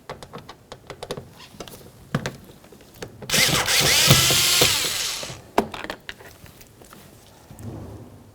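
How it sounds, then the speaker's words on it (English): Power screwdriver backing two Phillips head screws out of a 2003-2007 Honda Accord front interior door panel, a steady whirring burst lasting a couple of seconds amid scattered clicks and taps of handling, close and fairly loud. "Behind that area, you'll find that you have two Phillips head screws. Remove the pair."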